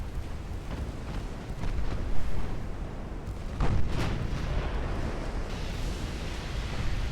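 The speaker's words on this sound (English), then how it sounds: "Torpedo detonation." A torpedo detonates in the naval warfare game Ultimate Admiral: Dreadnoughts, heard as a dense, rumbling explosive roar with a couple of heavier booming swells midway, continuous and fairly loud throughout.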